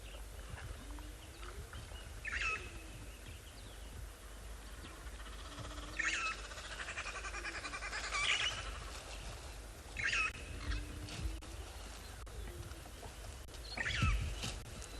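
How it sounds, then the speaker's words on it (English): Scattered bird calls and chirps ring out across a quiet South African safari morning, some near and some distant, repeating every couple of seconds. "just listen to all of the various different audio of birds and probably some animals that may make a calls."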